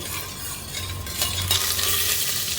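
A pan of dill and fenugreek leaf pulao with fennel seeds is stirred, producing a continuous close sizzle with spoon scraping and light clinks against the pan.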